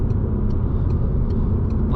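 Steady, loud road and engine roar from inside a Peugeot RCZ cruising on the autobahn, a constant broadband rumble of tyres and wind with no distinct changes and no talk.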